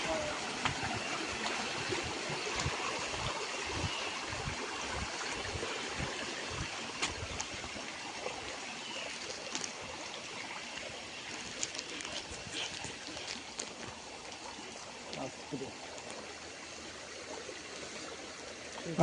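A mountain stream near a Palakkad viewpoint runs downhill with a steady rushing, trickling wash. The sound is moderately close and continues unbroken, with a few faint knocks.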